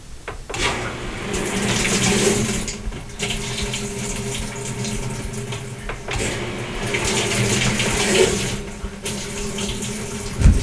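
Water rushes steadily through the hot water valve of a GE GTW460ASJ6WW washing machine filling, for several seconds, with brief pauses and restarts as the flow is switched off and on.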